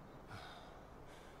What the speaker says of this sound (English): The breathing is freaking me out right now.